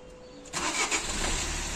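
A diesel car engine cold-starts on a chilly morning near Manali, a short crank bursting into a loud rough idle that stays close and steady.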